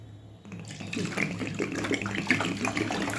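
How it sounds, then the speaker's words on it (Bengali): Water poured into a pot of washed lentils, a close splashing pour that starts after a brief quiet moment and continues steadily to the end. "এবারে আমি জল দিয়ে দেবো।"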